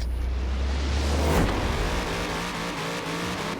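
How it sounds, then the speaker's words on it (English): A stock C8 Corvette engine in Forza Horizon 4 revs hard at the start of a race, a loud, steady growl that swells as the car accelerates away, with no voices. "Let's start up our race and see how it does stock."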